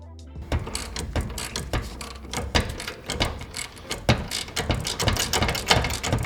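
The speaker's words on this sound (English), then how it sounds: "then you're going to tighten it down to 120 foot-pounds" A ratchet tightens a Camburg upper control arm bolt on a 6th-generation Toyota 4Runner, giving close, rapid, uneven bursts of sharp clicking strokes that run continuously with no talk.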